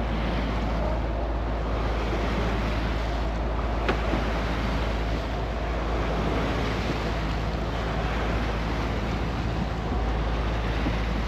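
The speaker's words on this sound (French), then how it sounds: "On va voir ces vagues." Waves from a passing ship's wake wash along the St. Lawrence River, a continuous loud rush of water mixed with heavy wind buffeting against the microphone, with no voices.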